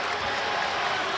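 Noisy crowd in a Philadelphia college basketball arena during a tight late-game moment against Villanova, a dense, continuous roar of cheering and clapping filling the whole brief stretch.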